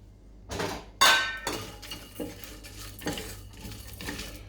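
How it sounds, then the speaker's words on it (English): Whole spices for lamb korma dry-roast in a pan, with sharp clinks and scrapes of a utensil against metal in an irregular rhythm, close and fairly quiet. "Right, and it's dry roasting them."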